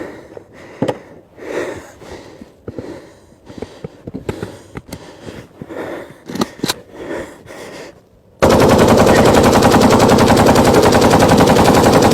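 Automatic bursts from an AK rifle running hot enough to cook off, loud and close: sharp shots and short strings of fire through the first part, then a sustained dense roar of continuous fire to the end.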